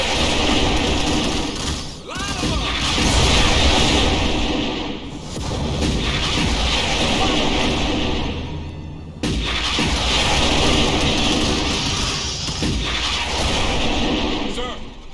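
Rocket artillery fire in Starship Troopers: Terran Command, a sustained dense roar of launches and booms lasting the whole stretch, loud and continuous with two sharp breaks, under occasional voices.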